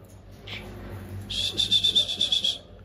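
Oriental magpie-robin (murai batu) singing nearby, a run of rapid, evenly spaced bright repeated notes after an earlier brief call, over low background hum.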